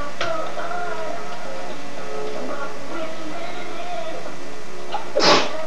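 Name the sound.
sneeze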